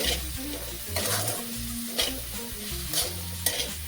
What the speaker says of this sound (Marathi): मिरचीचे बारीक करून घेतलेली छान फ्राय करून घेतली